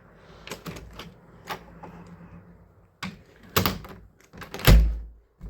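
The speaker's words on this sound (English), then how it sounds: "oh, this door doesn't shut all the way." A door that will not shut all the way is pushed closed in an old tenant house: a series of close knocks and rattles, then a heavy thud near the end as it forces into a tight frame.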